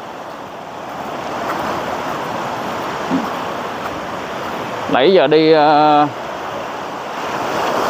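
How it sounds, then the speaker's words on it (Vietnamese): Surf rolls in steadily along the shore of a quiet Vietnamese fishing village beach, a broad continuous wash of breaking waves with wind noise over the microphone, and a brief spoken remark near the end. "sóng nó đánh mạnh quá, nó đánh nhanh mà chạy không kịp"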